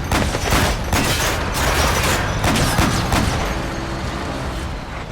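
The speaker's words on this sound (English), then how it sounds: "now they realize I'm shooting at them" Rapid gunfire as the player shoots at enemy soldiers in Metal Gear Solid V, dense overlapping cracks and bursts in quick succession, loud and close, easing slightly toward the end, with no talking.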